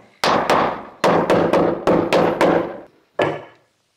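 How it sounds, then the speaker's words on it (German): Sharp, heavy hammer blows strike a wooden staircase in quick succession, about eight hits with a short pause before a final knock, each ringing briefly. "hier mit dem Hammer wecken wir die Ausfräsungen so ein bisschen"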